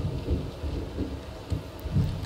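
Rain in the battle royale game PLAYERUNKNOWN'S BATTLEGROUNDS, a dense steady wash of rainfall with low rumbling swells like distant thunder, heard alone with no voices.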